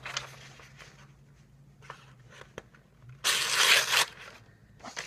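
A Rambo IV machete blade slices through a single sheet of paper, with scattered light rustles and crinkles building to a loud, bright tearing swipe lasting under a second, then a brief final rustle; no talking.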